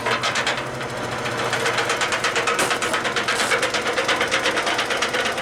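A homemade band saw mill built from salvaged parts runs steadily, its drive chain rattling in a fast, rhythmic metallic clatter over a continuous mechanical whir, close and fairly loud throughout.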